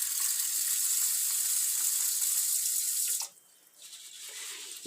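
Water running from a tap into a bowl of sushi rice for polishing, a steady bright rushing stream that cuts off abruptly, leaving quieter splashing and swirling afterward.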